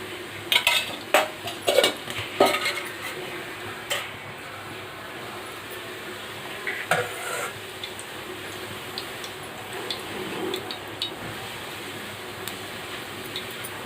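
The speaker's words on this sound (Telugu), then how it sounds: "దీన్ని తాలింపు పెట్టుకున్నాము." Tempering for coconut chutney stirred in hot oil in a kadai on the stove: a metal spoon clinks and scrapes against the pan in a few sharp bursts, over a steady low sizzle and hum.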